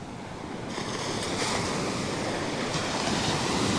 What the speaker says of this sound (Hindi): ये स्लोप से जब वापस जाती है लहर तो उसकी जो स्पीड है इतनी बढ़ जाती है